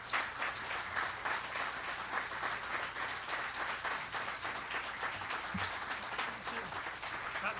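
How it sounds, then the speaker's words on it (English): Sustained crowd applause welcoming new head basketball coach Mark Byington at a press conference, a dense steady wash of many hands clapping for several seconds with no pause. "Let's give him a round of applause."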